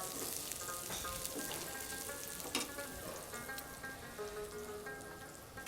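Finely chopped onions and garlic sizzle and crackle steadily in a hot pan, with occasional stirring scrapes breaking through the continuous close frying hiss.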